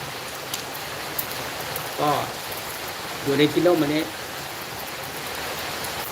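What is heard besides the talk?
rain falling on a rainy day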